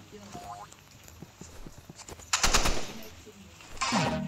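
Sniper gunfire in a video game sounds as sharp bursts of shots, one cluster midway and another near the end, over a busy game background, with a speaking voice present.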